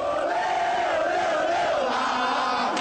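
Crowd of football supporters cheering and chanting loudly at an airport terminal after midnight, a dense, continuous roar of many voices with no single talker standing out.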